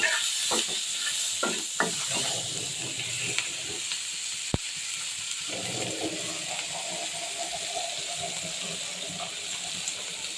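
Onions fry in oil in a pan with a soft, continuous hiss and sizzle, broken early on by a few light clicks and utensil taps against the pan.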